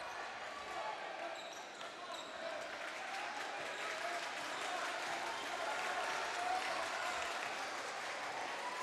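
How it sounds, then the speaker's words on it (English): High school basketball crowd at a close game in the final minutes, a steady loud roar of cheering and applause filling the gym throughout with no breaks, with faint voices mixed in. "CPA crowd making some noise here in these final few minutes."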